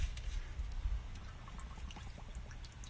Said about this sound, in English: Just dunk it in the water.